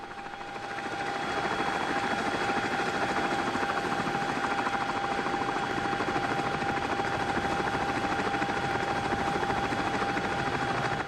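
A CH-47 Chinook tandem-rotor helicopter on a coupled TACAN approach to NAS North Island, heard from inside as a steady, loud rotor thrum and turbine whine that rises at the start and holds constant.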